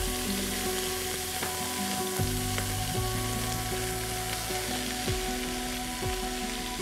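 Onions fry in a pot with a steady, loud sizzle throughout, accompanied by occasional stirring scrapes and background music tones.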